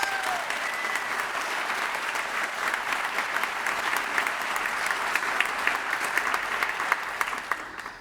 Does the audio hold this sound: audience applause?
yes